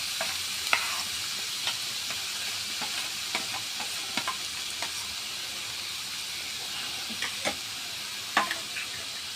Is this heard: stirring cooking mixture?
yes